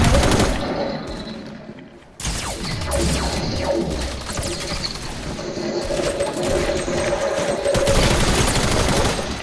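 Rapid bursts of video game shooter gunfire, loud and continuous with dense automatic fire and scattered single shots throughout, without audible talk.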